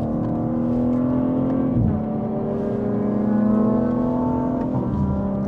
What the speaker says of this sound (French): On a une midget qui va passer